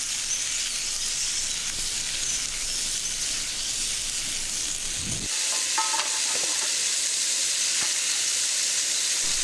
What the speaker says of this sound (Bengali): তারপর আলুগুলো ছেড়ে দিলাম, কেটে রাখা আলুগুলো। এরপর ভালো করে আলুটা নেড়ে নেব।